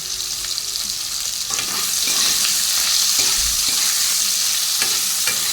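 Grated ginger fries in a pan with a continuous bright sizzle and occasional soft stirring scrapes, close and steady throughout, with no one speaking.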